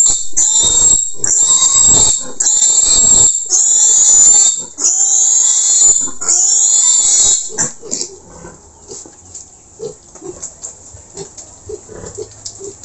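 Pigs on a farm squealing loudly in repeated bursts, then settling into quieter, irregular grunts and snuffles close by.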